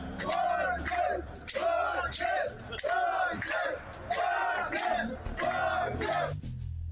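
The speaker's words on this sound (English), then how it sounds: "Wagner, they're cheering." Large crowd cheering as Wagner Group leaves Rostov, rhythmic chanted shouts rising and falling in repeated waves, loud and sustained with many voices together.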